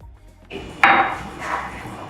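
A stuck lid on a molasses jar is worked loose in a kitchen, giving a short scrape and then a sharp metallic pop and rattle, close and alone with no talk.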